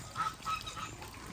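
Duck quacking in a few short, faint calls around a rural farm setting, with soft background noise and no talking.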